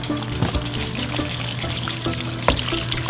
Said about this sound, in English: now we're going to add about roughly 2 cups of beef broth.